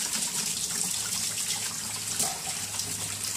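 Paint brush being washed under running water in a large sink, a steady hissing gush of tap water with faint splashing and scrubbing, continuous and moderately quiet, no talk.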